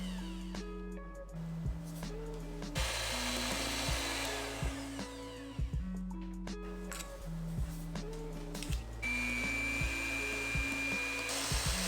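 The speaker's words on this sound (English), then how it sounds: "Start off by whipping your egg whites just by themselves until it's frothy, then start to slowly add in sugar." An electric mixer whirs steadily as it whips egg whites to a froth before sugar goes in for a chocolate cheesecake, a continuous motor drone with shifting pitch and light clinks of the beaters against the bowl.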